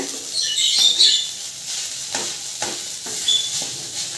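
Banana stem (thod) is stir-fried with a little sugar in a pan until browned. A spatula scrapes and turns it close up at a slow, uneven rhythm over a soft sizzle, with no talking.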